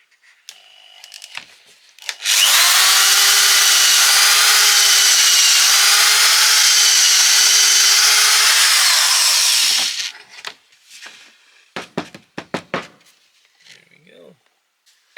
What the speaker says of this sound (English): we're making some pocket holes for the attachment to the side panel in here